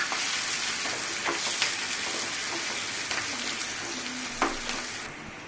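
Curry leaves and green chillies sizzle and crackle in hot oil as a tadka for Indori poha, a steady close frying hiss with occasional pops and stirring.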